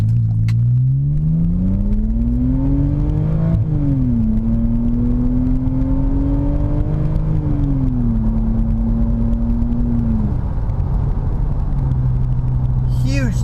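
A BMW E60 5 Series in sport mode accelerates hard, its engine note climbing steadily then dropping at each gear shift, with three rising pulls heard from inside the cabin, loud and continuous, without talk.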